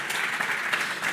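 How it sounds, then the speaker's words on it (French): Audience at a round-table forum on energy renovation applauding, a steady wash of dense clapping at moderate distance throughout the short moment, with no voices over it. "vous pouvez vous applaudir"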